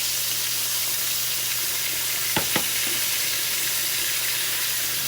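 Salisbury steak patties fry in a pan with a constant loud sizzle, broken midway by two sharp clacks as the patties are turned, and no talking.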